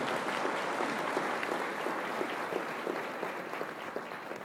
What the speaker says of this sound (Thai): ขอเสียงปรบมือกับยูนิลิเวอร์